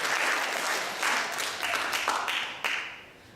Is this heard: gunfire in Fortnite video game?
no